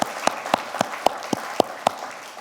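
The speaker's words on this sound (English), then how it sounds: "Can you give them a big round of applause for what they've done?" Sparse, evenly spaced handclaps from a small conference keynote audience, about eight distinct claps in a slow steady rhythm rather than a full ovation, moderately close with a quiet room between them.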